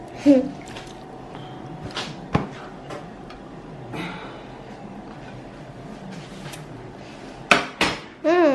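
A frying pan is handled in a home kitchen, with scattered metallic clanks and knocks, a few sharper hits near the end, and low background noise between them.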